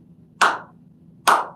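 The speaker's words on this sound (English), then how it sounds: "Yeah, do the clap again real quick." Two loud, close hand claps sound about a second apart over a low room hum, used to sync a camera.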